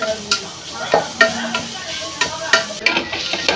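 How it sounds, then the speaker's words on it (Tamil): Onions frying with ginger garlic paste while a spoon stirs them for a vegetable biryani: a close, continuous sizzle broken by repeated sharp scraping strokes against the pan. "நல்லா இஞ்சி பூண்டு பேஸ்ட்டோட பச்சை வாசனை போட வரைக்கும் அடிச்சு வச்சுக்கோங்க"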